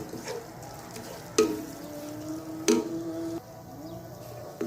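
Chopped ginger and garlic frying in a pan, a soft steady sizzle broken by a few louder scraping stirs.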